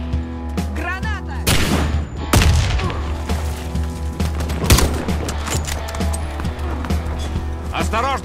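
A grenade goes off in Warface during a firefight, a few heavy booms rising over dense gunfire. Players talk over the noise throughout.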